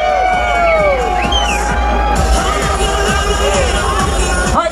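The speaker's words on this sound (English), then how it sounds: "The louder you cheer, the harder she works." At a bikini contest, a crowd cheers loudly and steadily, with whoops and whistles rising over a continuous roar of voices.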